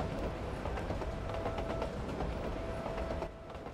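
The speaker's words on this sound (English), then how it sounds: "That's kind of cool, there's two trains parallel" Trains running on parallel tracks in Gravity Rush, a steady low rumble with faint rhythmic clatter throughout, fairly quiet and unbroken, easing slightly toward the end.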